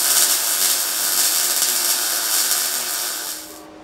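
MIG welding 0.9mm mild steel with a Lincoln BesterMig welder gives a steady, close crackling hiss that holds evenly for a few seconds, then cuts off as the arc stops.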